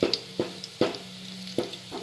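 Garlic tempering sizzles in oil for a Malvani crab curry, a faint hiss under four sharp, evenly spaced clacks of a spoon stirring the pan, with no voices.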